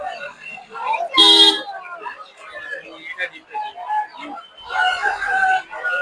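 Chickens cluck and one crows loudly at a poultry market, close and intermittent, mixed with people bargaining over the birds.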